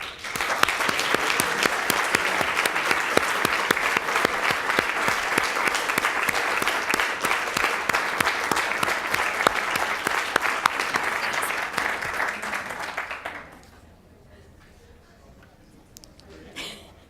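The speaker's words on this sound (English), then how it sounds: "And please join me in a round of applause." A school board meeting audience gives a long, steady round of applause for over twelve seconds, then it stops abruptly into quiet room tone.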